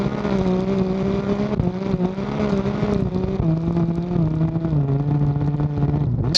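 A 400bhp motorcycle holds a loud, sustained high-revving burnout in sixth gear at Goodwood Festival of Speed, its engine note wavering and dipping slightly as it screams on without pause.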